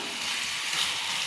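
Chicken frying in oil in a dry chicken dish with no water added, a steady close crackling sizzle holding evenly for a brief moment with no voices.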